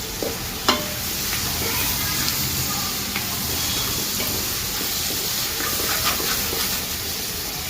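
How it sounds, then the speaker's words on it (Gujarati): Chole chana gravy with turmeric and salt sizzling and bubbling steadily in a pan, a continuous close hiss with a few sharp clicks and pops. "તો આવી રીતે છોલે છેણાની ગ્રેવી પકાવવાની"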